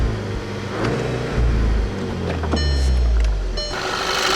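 A turbocharged 2010 Volkswagen GTI engine idles and then revs up in a couple of rising surges, loud and close, with a low rumbling drone throughout.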